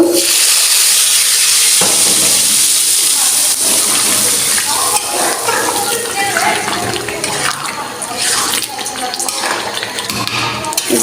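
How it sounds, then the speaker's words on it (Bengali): Garlic and cumin sizzling loudly in hot oil for a tempering, a steady bright hiss with scraping and stirring clinks from the pan, continuous and close. "এখানে রসুন দিয়ে দিচ্ছি এখানে আমি জিরা দিয়ে দিলাম আমার বাগার দেওয়া হয়ে গেল"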